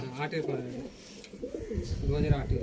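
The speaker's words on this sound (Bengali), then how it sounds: "পায়রাগুলো খুব সুন্দর" Pigeons, older breeding birds kept by hobbyists, coo in low rolling bursts close by, mixed with voices talking nearby throughout.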